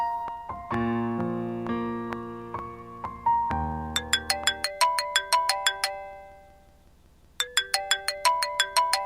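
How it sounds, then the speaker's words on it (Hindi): A mobile phone ringtone plays loudly and close by, a bright repeating electronic melody that cycles through several phrases, breaks off briefly, then starts again. "सैफ का फ़ोन। हाँ, काफ़ी देर से ट्राई कर रहा है।"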